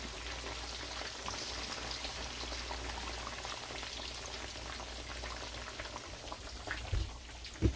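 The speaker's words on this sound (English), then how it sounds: "And now I'm start frying the plantain." Steady, fairly quiet crackling sizzle of plantain frying in hot oil, continuous throughout, with a couple of soft clicks near the end.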